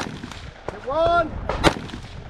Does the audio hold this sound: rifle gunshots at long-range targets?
yes